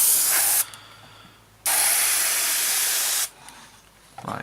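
An airbrush or spray can laying quick, smooth coats of paint onto a 1/48 scale Hasegawa Messerschmitt Bf 109E-3 model kit, giving two close, steady hissing bursts separated by short pauses.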